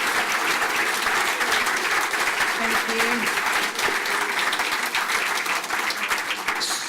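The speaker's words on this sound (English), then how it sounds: "A huge round of applause, please, for all of our speakers." A book festival audience gives its speakers a sustained round of applause, loud, dense and even, with many hands clapping at once for about seven seconds.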